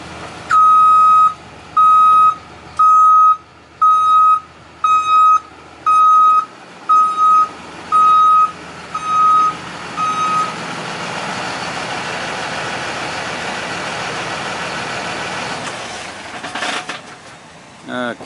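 A nearby vehicle gives a steady series of about ten loud, evenly spaced reversing beeps, then the beeping stops and a low idling engine rumble carries on to the end.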